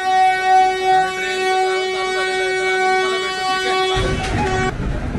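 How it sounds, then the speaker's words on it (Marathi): A train pulling out of Tilak Nagar station sounds a long, loud steady horn over rumbling carriages, followed by a burst of broadband rail noise as it gets moving. "तिलकनगरवरून ट्रेन निघाली आहे"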